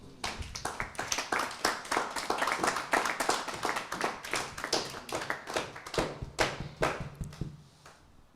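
A church congregation applauds the Lord during a French-language sermon, with dense, lively clapping from many hands that goes on steadily and then thins out toward the end.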